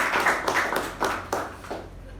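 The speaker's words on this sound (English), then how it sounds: "let's give a round of applause to both them" Small meeting group clapping, a few distinct rhythmic claps from a modest number of hands that thin out and fade toward the end.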